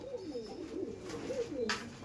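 An Andhra Kalanka pigeon coos close by in a soft, rolling series of low throaty calls lasting about two seconds, with a faint brief rustle near the end and no voices.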